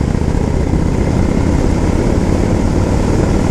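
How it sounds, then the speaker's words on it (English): Continuous deep, loud rumble from a motorcycle's stage 1 exhaust pipes, a steady low engine drone held throughout with no breaks. "it just rumbles right, and oh, I love that noise from these stage 1 pipes"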